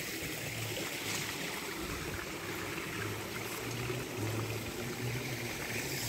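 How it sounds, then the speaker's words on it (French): A motor pumping water up in a tropical garden gives a steady, low, intermittent hum under a constant wash of rushing water and broadband hiss, with no voices. "c'était le bruit du moteur pour faire monter l'eau ici"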